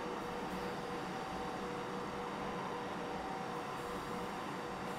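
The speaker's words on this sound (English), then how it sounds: "I'm hearing another train" A passing train in the Train Simulator 2017 game, on the West Coast Main Line, makes a steady, even rumble and hiss that stays constant throughout, at moderate level with no voices.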